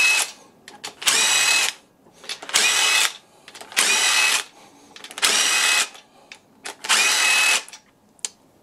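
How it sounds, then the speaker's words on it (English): A power tool whirs in five or six evenly spaced loud bursts, each about a second long, while bolts come out during the strip-down of a Ford Fiesta 1.0 EcoBoost engine, with quiet gaps and light clinks between them. "What did we do before power tools?"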